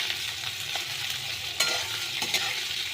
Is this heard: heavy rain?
no